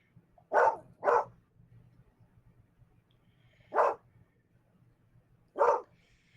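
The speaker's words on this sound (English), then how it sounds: "you hear a dog barking at the cattle" A dog barks at cattle in an open setting, four loud, clear barks: two in quick succession, then two more spaced seconds apart, over a faint low background hum.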